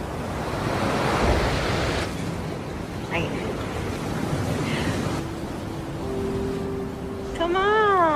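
Ocean waves wash steadily onto a beach, with continuous surf roar and wind noise; a tonal whine rises near the end and a voice is briefly heard.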